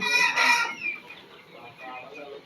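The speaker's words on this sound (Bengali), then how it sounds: "এটা সরকারি বিটের অরিজিনাল মিশরীয় ফার্মি মুরগির জাত।" Fayoumi chickens cluck and squawk close by, with a loud burst at the start followed by quieter scattered clucking.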